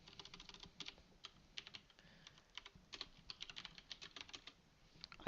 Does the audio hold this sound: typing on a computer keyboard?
yes